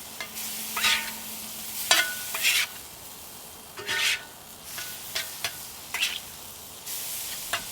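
Garlic, ginger and curry powder cooking in a pan, with irregular short bursts of sizzle and spoon scraping that come every second or so, close and clear over a quiet hiss, with no talking.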